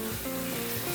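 Vegetables for vegan fajitas sizzle in a hot pan, a short, steady, close frying hiss with a little stirring and no talk.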